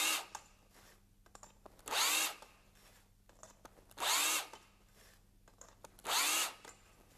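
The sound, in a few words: cordless low-speed drill with 90-degree deburring tool on rim holes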